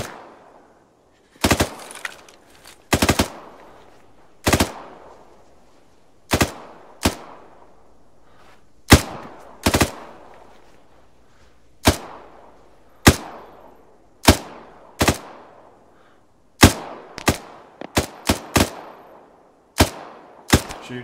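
Sharp gunshots in the Arma video game crack out near a gas station, some single and some in quick pairs and bursts, loud and close, spread irregularly with short quiet gaps between them.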